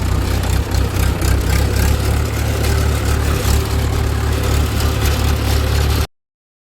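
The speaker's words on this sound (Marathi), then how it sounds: "त्या ट्रॅक्टर लावलेला आहे आमच्या." A farm tractor's engine runs loud and close, a steady low rumble with a heavy chugging beat that holds throughout, then cuts off abruptly near the end.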